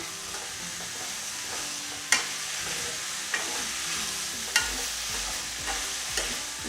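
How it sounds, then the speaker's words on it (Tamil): Tomatoes stirred into sautéing vegetables for samai millet vegetable rice, a steady soft sizzle with a few sharp spoon scrapes and clacks against the pan at irregular intervals, close and moderately quiet, no voices. "இப்போ நம்ம இதில் தக்காளி சேர்த்துக்கலாங்க. மிக்ஸ் பண்ணி விட்டுருங்க."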